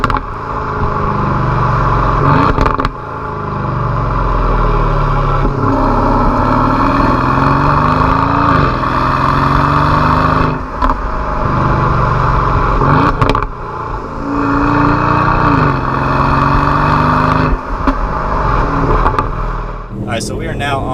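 A 2019 Aston Martin DB11 V8 driven hard through downshifts from fifth to second gear, its loud engine and exhaust roaring close up, with several sharp pops and crackles breaking through the steady drone.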